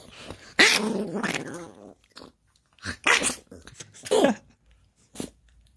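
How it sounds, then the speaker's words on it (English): A dog named Eddie growls and grumbles close by in several short bursts separated by pauses, with a person speaking softly nearby. "Dog."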